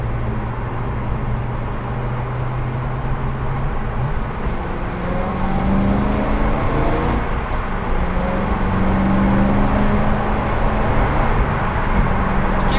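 Cabin noise inside a gutted BMW E92 M3 track build accelerating normally onto a freeway: a steady, loud broadband engine and road roar with low droning tones, constant throughout with no speech.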